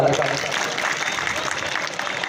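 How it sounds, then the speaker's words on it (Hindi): An audience at a Gondwana political gathering in Balaghat claps loudly, a dense burst of applause close by with a voice speaking over it. "जोरदार ताली।"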